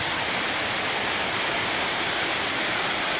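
Heavy rain pours loudly and steadily onto a newly installed roof, a dense continuous roar with no breaks and no voices.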